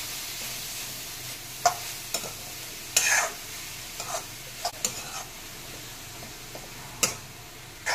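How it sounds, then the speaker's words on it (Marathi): Beetroot sautéing in ghee, a low, quiet sizzle broken by sharp, irregular clicks and scrapes of a spoon stirring against the pan. "थोडंसं आपण तुपामध्ये परतून घ्यायचं आहे"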